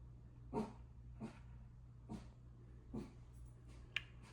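A dog gives four short, soft barks spaced roughly a second apart at a seaside spot, followed by a brief sharp tick, all fairly quiet over a steady low hum.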